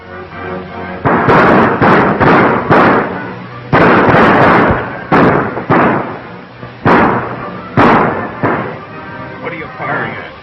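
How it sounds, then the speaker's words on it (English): Gunfire rings out in a desert mining setting: a rapid volley of loud, close shots in irregular bursts, each a sharp crack with a short decaying tail, continuing steadily with brief pauses between clusters. "What are you firing at? Anything, anybody."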